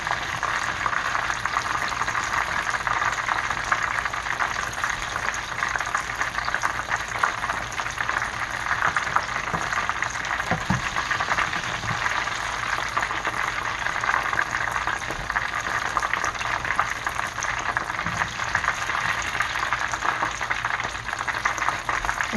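Vegetable egg rolls fry in a pan of oil, a steady, even crackling sizzle that carries on without a break.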